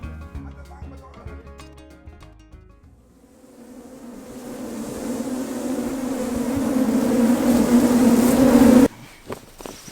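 Bees swarming around beehives in the bush, a dense droning buzz that rises steadily and grows louder and nearer before cutting off abruptly.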